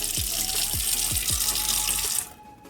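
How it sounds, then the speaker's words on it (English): Water poured from a tap into a brown sugar mixture: a steady, close, hissing gush for about two seconds that stops abruptly, with a few soft low thumps beneath. "Add a little bit of water."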